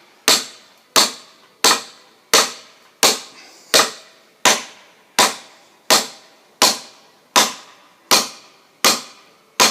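Post being driven deep into the ground, struck in a steady series of about fourteen sharp, loud impacts roughly 0.7 seconds apart, each ringing briefly before the next blow.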